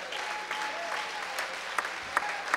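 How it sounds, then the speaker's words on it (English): A church congregation claps its hands during a sermon, producing a dense run of clapping with a few sharp, louder claps near the end. "God is good. Clap your hands."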